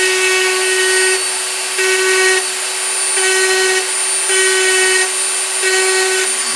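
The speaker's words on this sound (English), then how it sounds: "take the old trusty Dremel tool. I'm going to fire it up." A Dremel rotary tool engraving a metal P90 baseplate gives a steady high-pitched whine, close and loud, dipping slightly in pitch in short regular pulses as the bit presses into the surface, with no talking.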